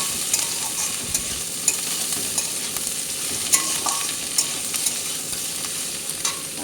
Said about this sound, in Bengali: এবার পেঁয়াজটা লাল লাল হওয়া পর্যন্ত নেড়ে চেড়ে ভাজতেই থাকবো